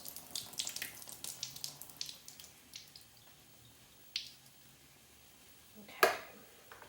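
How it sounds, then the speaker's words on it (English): Liquid from a can of whole artichoke hearts drains into a kitchen sink, a close, moderately quiet stream of splashes and drips with a few sharper clinks and a final knock. "I'm gonna open up my artichokes, and I think I'm gonna have to cut these, but first I will drain them."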